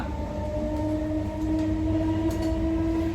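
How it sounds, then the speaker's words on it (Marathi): A train rumbles steadily along the rails from inside a carriage, on a journey to Tiruchirappalli, Tamil Nadu, with a constant low roar and a faint sustained tonal whine, no talking. "बसलोय आता ट्रेन मध्ये"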